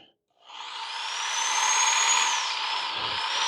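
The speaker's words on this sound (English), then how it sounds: "There's a tool that I use a lot. It's called a finger sander." A finger sander spins up after a brief silence and runs steadily at a low speed setting, a close, even whine with a high tone that wavers slightly toward the end.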